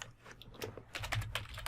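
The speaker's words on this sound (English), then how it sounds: "So I'm going to type hello world." Someone types on a computer keyboard, a handful of quick, close key clicks tapping out a short phrase.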